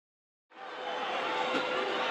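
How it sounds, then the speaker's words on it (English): A large crowd at a wrestling event fills the arena around the ring with a dense, loud, sustained roar that swells in abruptly after silence and holds steady. "you see the crowd gathering around the ring and giving a vociferous welcome to TNT, Tony and Tiger"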